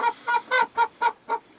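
Young hens being moved at night give six short, evenly spaced clucking calls, each a brief voiced burst with clear pauses between, close and fairly loud with no talking.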